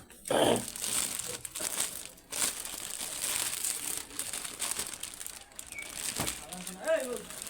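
Plastic wrapping around a pack of factory-made garment pants is torn open and crumpled, giving a close, crackly, uneven crinkling that runs throughout while voices talk nearby.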